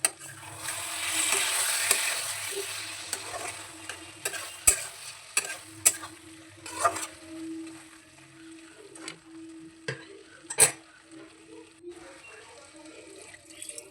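Masala and cauliflower cook in a pan, giving a soft sizzle with scattered sharp clinks and scrapes of a spoon against metal, close by and without talking.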